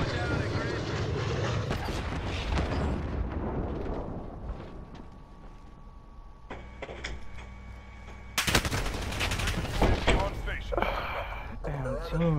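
Video-game gunfire erupts in loud bursts of automatic shots, with people talking over the shooting and a sharp new volley breaking out near the end.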